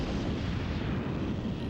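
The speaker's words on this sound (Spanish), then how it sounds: "500 morteros dispararon simultáneamente por todo el frente" Hundreds of mortars and artillery guns fire at once along a First World War front, merging into a short, dense, continuous rumble of blasts at moderate distance.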